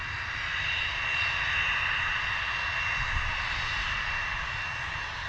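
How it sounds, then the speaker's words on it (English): A Cessna Citation private jet arrives at London Stansted Airport, its engines a loud, steady whining roar with a broad hiss that holds even and unbroken throughout. "We've got our little Cessna Citation coming in"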